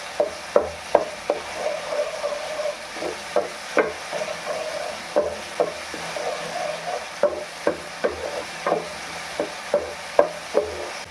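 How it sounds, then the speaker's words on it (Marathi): A spoon scrapes and stirs spice masala with chili powder as it roasts in a pan. Repeated rhythmic scraping knocks sound about every half second over a soft, steady sizzle. "याच्यामध्येच मी एक भर मिरची पावडर घालून देते आणि सगळं हे मिक्स करून छान असं भाजून घ्यायचं"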